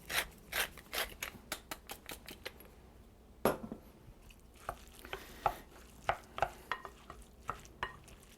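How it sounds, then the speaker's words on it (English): Egg roll filling seasoned with black pepper is mixed by hand, giving a series of close, soft rhythmic scraping and clacking strokes of utensil against bowl, fairly quiet, with no talking. "I'm just going to mix this all together."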